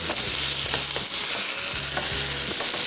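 Chili chicken with vegetables frying in chili sauce crackles and sizzles continuously, with a rhythmic scraping of a spoon through the pan every half second or so.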